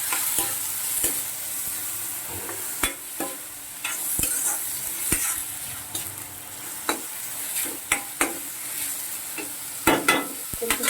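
Mutton curry frying in an iron kadai with steady sizzling and repeated sharp scrapes and clinks of a spoon stirring, close and continuous with no voices.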